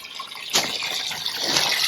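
Water pouring and trickling into a garden pond as it is filled, a continuous close splashing flow that swells slightly partway through, with no talk.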